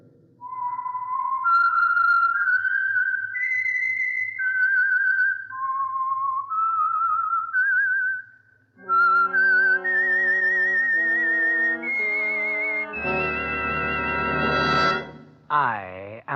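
A solo whistled theme melody from the 1949 radio drama The Whistler, clear and close, wandering through a slow, eerie tune with sustained notes, then rising into a brighter musical passage at the end.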